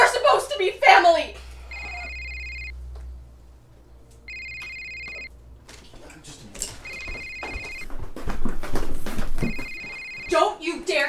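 A telephone rings in repeated electronic bursts, four separate rings spaced a few seconds apart, with people talking and handling noises in between the rings.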